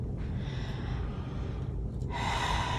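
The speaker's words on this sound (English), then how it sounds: "Now I'm going to listen to your breathing, and what I need you to do is breathe in and out with your mouth open" A patient breathing in and out through an open mouth during a physical exam, one deep audible inhale followed by a breathy exhale, close and alone.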